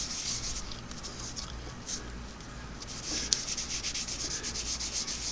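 A carbon disc from a Singer clam-shell sewing machine foot pedal is rubbed clean on a hard surface, giving a steady, close scrubbing sound of repeated short strokes.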